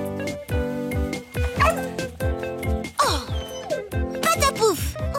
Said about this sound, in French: Et rappelle-toi, c'est un chien.